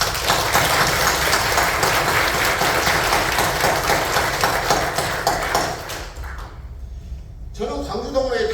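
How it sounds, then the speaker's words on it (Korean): A Korean church congregation gives loud, sustained applause at an installation and ordination service, dense clapping filling the hall for several seconds before fading, with a voice speaking briefly as it ends. "축하와 격려의 뜨거운 박수를 한번 주십시오"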